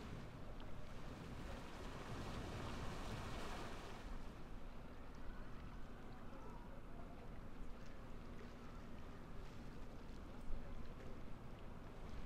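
A steady, broadband rush of falling water from a waterfall beside the rocks of a log flume ride in Planet Coaster on PS4, continuous and fairly faint, with a brighter wash in the first few seconds.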